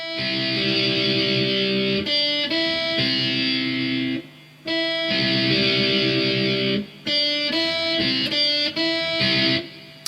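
Distorted electric guitar plays the interlude of a song in a pop-punk style, alternating bursts of loud crunchy strummed chords with brief sustained single notes and short gaps, close and alone.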